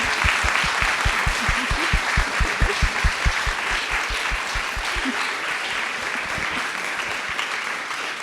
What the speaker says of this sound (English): please join me in a huge round of applause for Jennifer Doyle